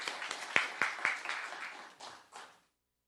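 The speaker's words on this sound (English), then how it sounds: "Another round of applause for Yash" Scattered applause at a town council meeting honors a young poet named Yash, a handful of distinct claps in a loose, uneven rhythm that thins out and stops, leaving silence.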